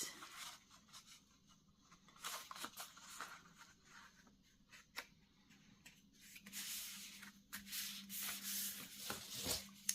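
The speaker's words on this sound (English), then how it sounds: "And then I'm just going to burnish it down." Wallpaper is burnished down onto a paper tag by hand, giving a faint, close, continuous rubbing and scraping with uneven strokes that grow a little louder toward the end.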